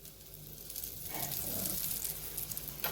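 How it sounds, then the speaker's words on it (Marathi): Sabudana paratha frying on a pan as ghee is added around its edges: a steady, close crackling sizzle that builds slightly and runs throughout, with no voices. "परत मी कडेने थोडंसं तूप घालतेय"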